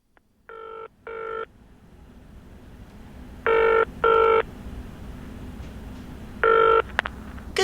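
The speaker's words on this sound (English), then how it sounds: "Karen is calling Lightways" Telephone ringing on an outgoing business call to a lighting supplier, heard as three paired rings spaced by silence with a faint hiss between them.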